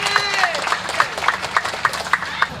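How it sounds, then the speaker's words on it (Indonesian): A crowd at a Papuan village campaign gathering in Wasior applauds, with sharp rhythmic claps standing out over the rest, under a voice talking and some tonal sounds. "Ada tepuk tangan untuk Tuhan."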